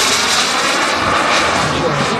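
A radio-controlled scale model Saab 37 Viggen jet flies at an RC model show in Bolešiny, its engine a steady, loud, broadband roar that holds without a break.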